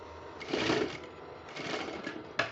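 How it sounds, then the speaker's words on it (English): A sewing machine stitches down pleats on a sleeve for a bishop-collar top, running in two short bursts with a brief pause between, moderately loud and close with no talking. "I'm now going to sew on our pleats."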